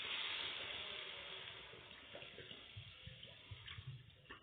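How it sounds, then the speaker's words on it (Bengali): A little water runs from a tap into a cooking pot of potatoes for a Bengali shukto, a soft steady rush with small splashes and bumps toward the end, quiet and close with no talk. "অল্প জল দিয়ে, আলু আছে সেজন্য অল্প জল দিয়ে একটু সেদ্ধ করে নিতে হবে আলুগুলো। অল্প জল দিয়ে দিই,"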